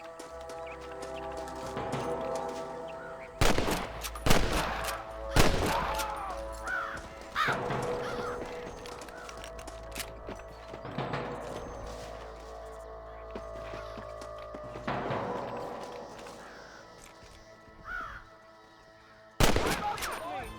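Red Dead Redemption gunfire cracks out as loud, sharp single shots spaced several seconds apart over a steady bed of game music and ambience, with a sudden close shot near the end.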